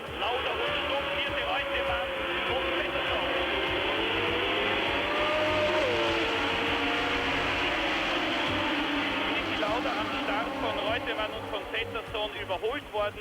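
Formula 1 race cars at the start of the 1976 Italian Grand Prix at Monza, a dense roar of many engines rising and shifting pitch in a continuous wall of sound beneath steady commentary.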